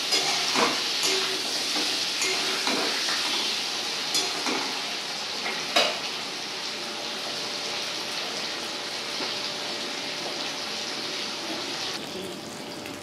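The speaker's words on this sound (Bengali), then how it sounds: "এবার নুন হলুদ দিয়ে আলুগুলোকে আমি লাল করে দেব।" Potatoes frying in oil with salt and turmeric, an even hiss of sizzling with a few brief clatters of stirring early on, then a steady quieter fry to the end.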